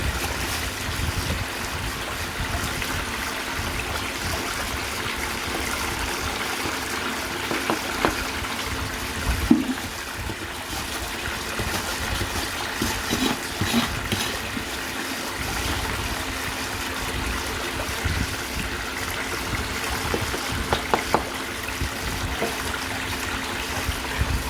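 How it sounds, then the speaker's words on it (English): Water rinsing crushed IC chips out of a bowl during gold recovery work, a continuous close splashing and gushing with occasional knocks and clinks, no voices. "The water to wash this out of the bowl."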